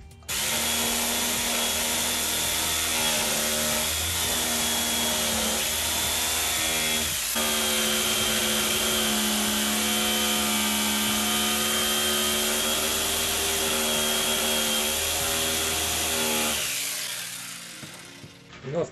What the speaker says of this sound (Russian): Друзья, ну у нас с вами получился вот такой вот простейший электрический напильник.